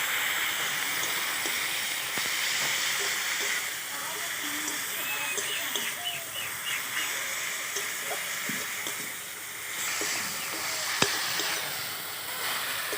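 Tomato paste with turmeric and spices frying in a pan for an egg curry, giving a steady soft sizzle and hiss throughout with occasional stirring clinks, continuous and close.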